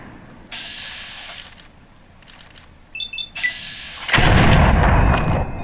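Burst of 10mm SMG fire in Fallout 3, a loud dense rattle near the end following quieter mechanical clicks and game sounds, no talking.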